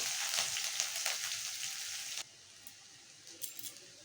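Chopped onion and green chili hit a pan of garlic fried until reddish, giving a bright, hissing sizzle for about two seconds before it drops abruptly to a quiet background with a few faint clinks.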